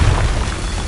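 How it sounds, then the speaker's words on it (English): The Confringo spell in Hogwarts Legacy goes off as a single deep, booming blast that rolls on heavily for about a second, loud and close. "Confringo!"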